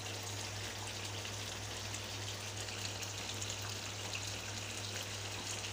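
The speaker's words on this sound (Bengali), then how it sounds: "আবার আমি একটু নেড়ে দিব।" Chicken curry (sonali chicken bhuna) sizzling and bubbling steadily in a pot as it is stirred, a continuous close, even frying hiss with no talking.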